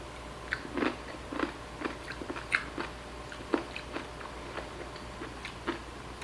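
Close crunchy chewing of watermelon, with irregular crisp bites and wet munching repeating throughout, fairly quiet and with no talking.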